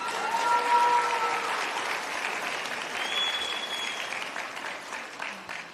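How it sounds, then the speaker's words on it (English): Audience applause at a Lincoln's Challenge 2025 ceremony, a dense, steady wash of clapping from a large crowd that swells early and then gradually tapers. "Please give yourself a round of applause."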